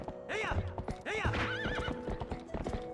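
Horse hooves clip-clop at a steady gallop while a horse neighs twice, loud and close, in The Legend of Zelda: Twilight Princess HD, with game music faintly underneath.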